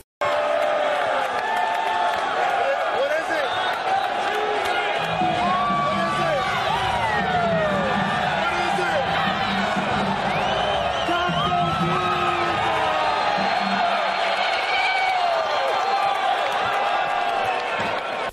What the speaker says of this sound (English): Here is LeBron and some other fans in a game cheering for Taco Tuesday.